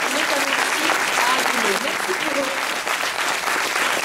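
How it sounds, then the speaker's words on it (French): An outdoor audience applauds forest agents of the Office national des forêts in a large oak and Scots pine forest near Haguenau, a steady wash of many hands clapping, loud and continuous, with some voices mixed in. "On va les applaudir, tiens, voilà"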